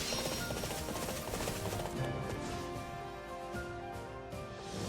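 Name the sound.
horse hooves and whinny in Fire Emblem Warriors video game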